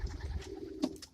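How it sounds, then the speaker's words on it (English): Pet pigeons or doves cooing at close range in a coop, with a low burbling coo that rises to a louder call near the end. "Very beautiful birds."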